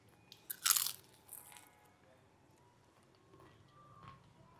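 A crispy fried chicken samosa is bitten into up close, giving a loud crackling crunch followed by a few softer crunches as it is chewed, with no talking.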